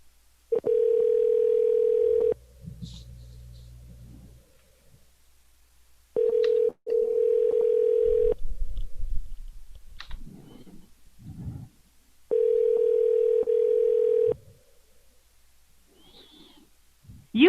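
A telephone call-back rings out in three long, evenly spaced electronic tone bursts with several seconds of quiet between them, and faint voices speak in the gaps.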